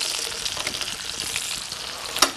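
Potato pancakes frying in oil in a pan, a constant close bright sizzle with small crackles and one sharper pop toward the end, no voices.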